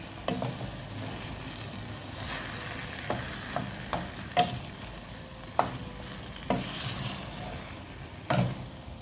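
Fresh mushrooms being stirred into sautéed vegetables in a small pot: steady sizzling under repeated scraping knocks of a utensil against the pot, close and moderately loud.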